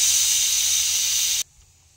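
A pressure cooker cooking mutton biryani lets out a loud, steady, close steam whistle that holds for about a second and a half and then cuts off abruptly, leaving near silence.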